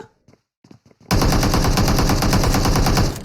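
Rapid automatic gunfire in the battle royale game PUBG, a loud, sustained burst of evenly spaced shots after a moment of quiet with a few faint sounds.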